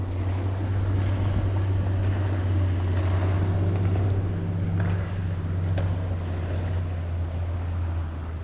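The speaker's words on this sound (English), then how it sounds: "And now we have a fishing boat going by." A fishing boat motor drones steadily across a lake, a low continuous hum at moderate distance with faint water and wind noise, no voices.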